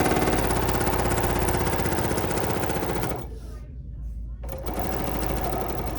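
A Bernina sewing machine stitches bias binding in one steady, loud run of rapid needle strokes, pausing briefly midway before carrying on at the same pace.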